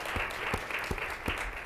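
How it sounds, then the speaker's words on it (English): Audience applause for students at a university Black History Month unity forum, a steady wash of clapping hands that carries evenly through the moment with a few sharper claps standing out. "Let's give them a round of applause."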